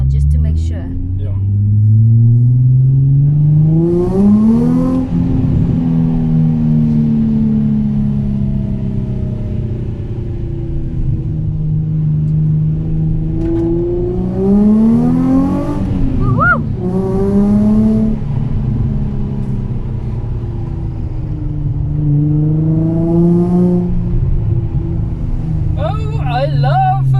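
A Nissan 350Z lapping a circuit, its engine rising loudly through the gears in several long pulls with shifts between them, heard steadily from inside the car throughout, with occasional faint tire squeal.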